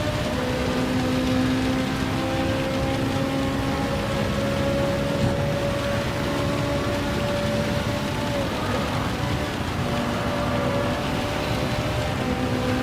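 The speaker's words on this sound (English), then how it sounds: "It's so heavy, the rain here now." Heavy rain pours in the racing video game Gran Turismo during an online qualifier, a dense unbroken roar with faint steady engine tones running underneath, loud and close with no talking.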